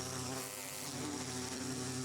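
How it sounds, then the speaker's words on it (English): Angry bee in Minecraft buzzing steadily and up close, a continuous droning whine with tonal harmonics that holds at an even level throughout, with no talking. "We'll switch back to the angry bee."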